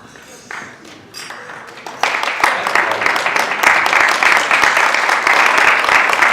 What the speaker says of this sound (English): Ladies and gentlemen, a very warm round of applause to both Laura's father and Gary's father